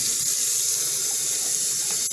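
Water runs steadily from a tap to fill a bottle lid for cleaning sneakers, a continuous loud hissing stream close by with no talk.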